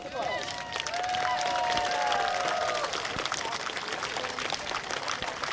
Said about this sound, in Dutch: wens ik vrouw deze plak graag een groot applaus